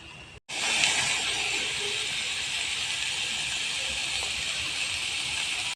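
Red cabbage fries in a pan, giving a continuous loud hiss that starts abruptly after a brief gap and holds steady, heard up close with no voices.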